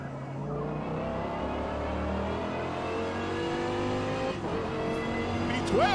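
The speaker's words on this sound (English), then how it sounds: "This Viper engine, boy." A Dodge Viper V10 engine in the Forza Motorsport racing game revs hard and close during a lap, a continuous loud engine roar that rises toward the end.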